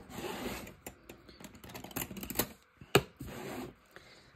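Scissors snipping through stickers at close range, a run of small crisp cuts and paper rustles ending in one sharp louder snip, then quieter handling.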